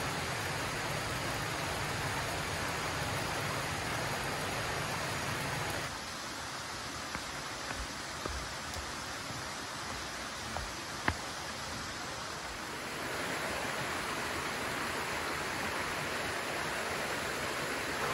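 Amahori Falls, one of the Akame 48 Falls, pours as a steady broadband hiss of falling water that thins briefly midway before returning, heard alone without voices.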